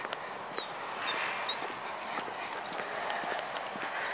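A dog out on a walk gives soft, faint whimpers and small vocal whines over quiet outdoor ambience, with light footsteps and a thin background hiss.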